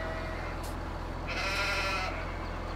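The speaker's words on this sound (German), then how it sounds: "Hier ist alles voller Schafe." Sheep bleat in a farming video game, thin and somewhat distant calls that rise over a dense, steady bed of game ambience and background noise, with no talking.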